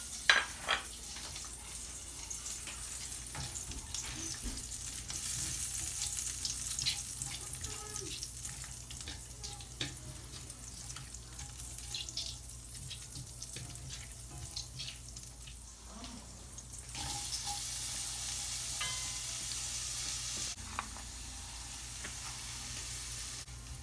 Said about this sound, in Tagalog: in the same pan, I'm gonna saute garlic and onion and butter.